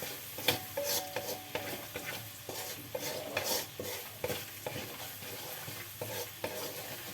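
Ground chili paste sizzles softly in a pan while a spatula stirs it with repeated scraping strokes, a close, fairly quiet, steady fry with rhythmic stirring accents.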